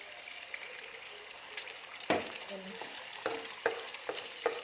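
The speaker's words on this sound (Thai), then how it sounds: "ใส่ไข่ลงไปยีค่ะ" An egg hits a hot pan for vegetarian stir-fried Shanghai noodles with mock pork and is scrambled, a soft steady sizzle broken by several sharp scraping clacks of a spatula against the pan.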